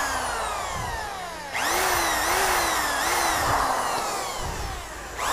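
A power drill bores a hole through a motorcycle helmet to fit a camera mount, its motor whine rising sharply and staying loud for several seconds with slight speed dips as the bit bites in.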